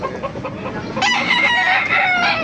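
A rooster crows loudly and close by, a long drawn-out call rising after some low clucking.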